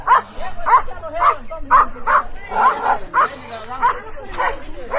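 Repeated sharp barks and yips from dogs attacking a jackal in a rapid, agitated series, close and loud, with whimpering tones mixed into the commotion.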